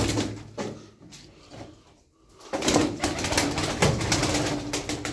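Pigeons in a loft, soft cooing and rustling at first, then louder wing flapping and bustling activity as the birds move about close by.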